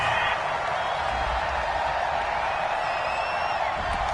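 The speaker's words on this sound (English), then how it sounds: "Well, the crowd doesn't like that." Football stadium crowd at a New York Jets vs Buffalo Bills game reacting unhappily to a penalty flag on third down, a steady, loud wash of massed voices filling the whole stretch without breaks.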